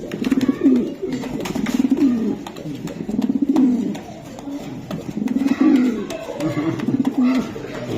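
Racer pigeons coo steadily in repeated low, throaty rolling phrases, close and full, with a few faint chirps mixed in and no talk over them.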